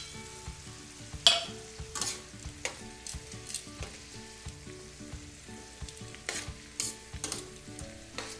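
Onions frying in a pan with fish nearby, giving a steady low sizzle broken by repeated scraping stirs and occasional louder clatters of the utensil, with no one talking.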